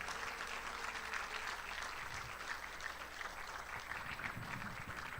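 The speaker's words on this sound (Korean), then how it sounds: "힘찬 박수 부탁드리겠습니다." A large audience gives steady applause at the opening ceremony of a national regional leaders' conference held in Geochang in 2021, a continuous wash of clapping at a moderate distance, heard alone with no talking.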